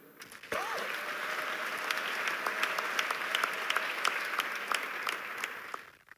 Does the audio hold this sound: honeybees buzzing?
no